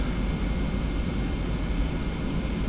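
Boeing 717 jet engines at takeoff thrust in a flight simulator, a loud, steady broadband roar that holds constant throughout with no talk.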